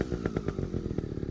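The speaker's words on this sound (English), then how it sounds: "you can also rev up the engine and stay in that friction slip spot" Motorcycle engine revving during a clutch control friction-zone drill, a quick pulsing series of revs with rapid rhythmic bursts, moderately faint and close, no voices.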